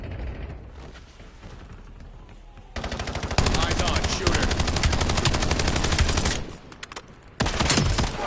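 Rapid video game gunfire, automatic bursts loud and dense from about three seconds on, with a short lull before another burst near the end. A quieter stretch at the start carries game sounds and faint radio-style chatter.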